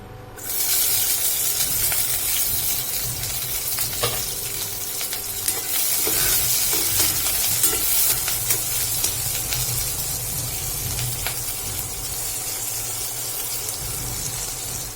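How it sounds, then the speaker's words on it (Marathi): Chopped green chillies hit hot oil, setting off a sudden loud, continuous sizzle and hiss that keeps its strength close by for the whole stretch, with faint crackles throughout. "आता आपण तेलात आपण ज्या मिरच्या कट करून घेतलेल्या आहेत त्या टाकून घेणार आहोत"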